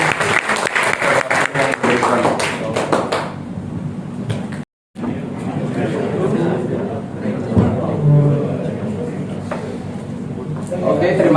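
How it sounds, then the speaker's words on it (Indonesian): A classroom audience at a school microcontroller project demonstration claps in a dense burst for about three seconds, then a voice speaks over the room. "Oke, tepuk tangan."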